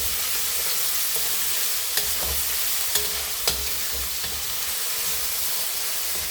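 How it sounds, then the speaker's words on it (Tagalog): Luncheon meat, ipon and roasted pork sautéing in a pan for fried rice, a steady loud sizzle with occasional spatula scrapes and stirring clicks, no talking. "Habang ginigisa natin yung ating luncheon meat, ipon, roasted pork"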